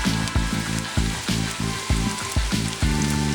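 Onions frying in hot canola or sunflower oil give a steady close sizzle, with regular soft stirring or scraping thuds roughly every half second throughout.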